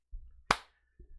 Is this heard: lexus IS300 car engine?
no